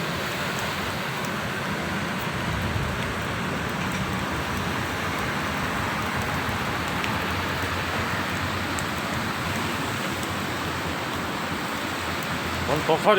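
Rain falls steadily in a dense, even hiss, with no break across the whole stretch and a slight rise in intensity right at the end.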